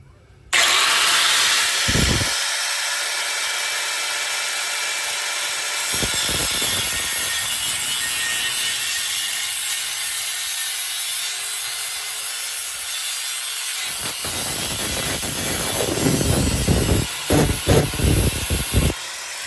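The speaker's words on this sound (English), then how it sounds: "I'm gonna hold the grinder perfectly level with the pipe, like so. I'm gonna cut it, okay?" An angle grinder cuts through the exhaust pipe of a 2024 Ram 1500 during a resonator delete, a loud sustained high whine grinding on for many seconds with shifting pitch and a rougher stretch near the end.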